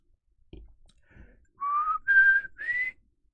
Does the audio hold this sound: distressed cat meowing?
no